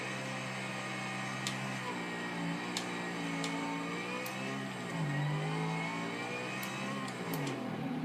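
A Plymouth GTX Hemi engine in Forza Horizon 2 hums at a steady mid-pitched drone, rising and falling gently as the revs shift, heard alone and fairly close, with a few faint clicks.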